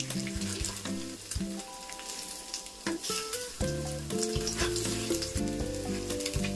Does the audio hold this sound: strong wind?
no